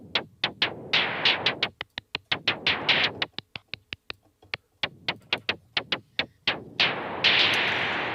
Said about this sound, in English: So that's the sound of blue noise.